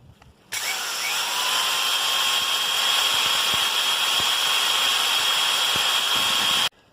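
Chinese electric motor running after its brushes were replaced: a steady high whine that starts abruptly, holds constant for about six seconds close by, then cuts off.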